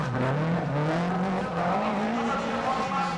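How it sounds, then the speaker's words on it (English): A 4-cylinder 16-valve rally car engine racing at the 1990 Race of Champions, loud and close, its pitch climbing and dropping through gear changes, with a crowd or commentary murmur underneath. "just hear that 4-cylinder 16-valve engine barking away"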